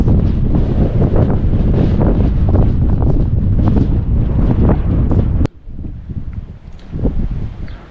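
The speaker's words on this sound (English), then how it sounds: "It's a little bit windy, so I don't know if you'll hear me." Strong wind buffets the microphone at the Cap de Garde lighthouse above the sea near Annaba, Algeria, a loud continuous roar with gusty surges that cuts off abruptly, leaving only softer gusts.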